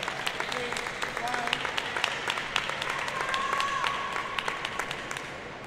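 Applause and cheering fill a stadium at a table tennis team semifinal of the 2025 Asian Team Championships, with scattered sharp claps and a steady crowd murmur beneath a commentator's voice.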